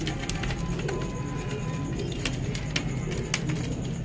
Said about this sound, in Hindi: बच्चे उड़ाने वाले कबूतर है।